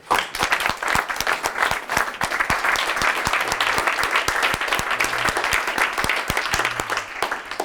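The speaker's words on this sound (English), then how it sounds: "please join me in a huge round of applause to thank Cherise Granger." Sustained audience applause after a speech at a formal evening address, a dense wash of many hands clapping that stays loud throughout.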